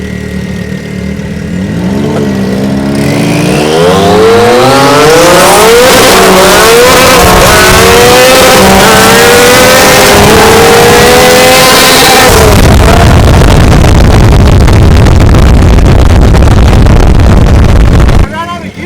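A turbocharged Yamaha YXZ side-by-side accelerates hard from a rolling start up through the gears into fifth, its loud engine climbing in pitch with each shift before sitting on the rev limiter near the end.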